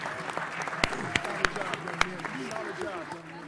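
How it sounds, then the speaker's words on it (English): Applause at a city council meeting for a youth sports team that won a national tournament championship, moderate clapping with some louder individual claps standing out and crowd murmur and voices underneath. "let's give them a round of applause to the champs"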